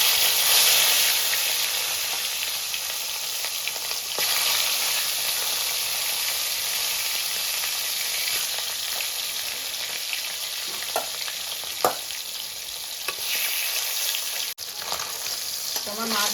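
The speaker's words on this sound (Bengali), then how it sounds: "তো তেল গরম হয়ে গেছে, ওই মাছের মাথাগুলো আমি ভেজে নিচ্ছি" Katla fish heads frying in hot oil in a kadai, a steady loud sizzle running throughout with a few brief clicks from handling near the end.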